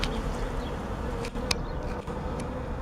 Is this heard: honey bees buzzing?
yes